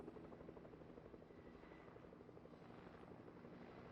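Steady rotor drone of a helicopter in the Fortnite video game, heard alone and continuous at moderate level during a battle royale match.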